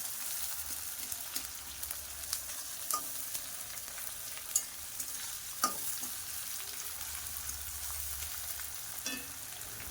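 Onions frying lightly in oil before chicken goes in for a raw-mango chicken curry. A soft, steady sizzle runs throughout with scattered clicks and scrapes of stirring and a low hum, fairly quiet and close, with no talking.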